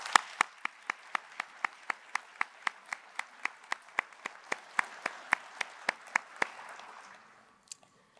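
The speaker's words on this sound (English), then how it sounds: "Let us congratulate those individuals on their accomplishments with a round of applause" Graduates wearing gold cords receive a round of applause at a university commencement ceremony. The clapping is sparse and evenly spaced, single sharp claps over a soft spread of hands, fading out near the end.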